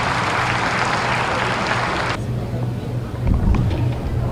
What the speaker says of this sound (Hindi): जोरदार तालियों के साथ में एक बार स्वागत कीजिए।